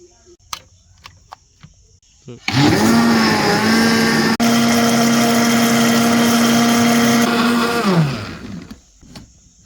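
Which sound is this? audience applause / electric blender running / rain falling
electric blender running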